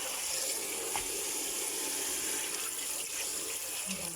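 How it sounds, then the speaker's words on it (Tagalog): Running tap water pours over molokhia leaves being washed in a sink, a steady close gush with faint splashes and no talking. "Ganito magugas ng Molokhia guys. Ganyan mo talaga ng tubig"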